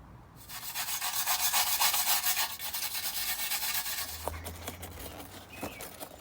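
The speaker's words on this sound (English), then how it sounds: "Now I'm going to give it the final buff up with Brasso." A stainless steel exhaust is buffed with Brasso polish in a steady, close rubbing swish that runs for several seconds, then gives way to a few lighter scrubbing strokes and faint knocks.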